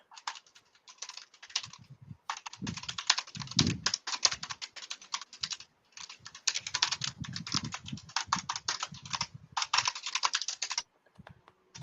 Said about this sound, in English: You and your fucking keyboard.